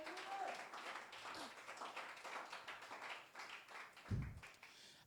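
A church congregation claps in a dense, fast patter of applause that holds steady for several seconds at moderate distance, with a brief low thump near the end.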